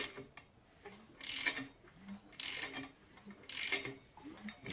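A socket ratchet turns over a big block V8 engine pulled from a junkyard, producing three rhythmic bursts of clicking, grinding mechanical rotation separated by short pauses, close up and moderately quiet.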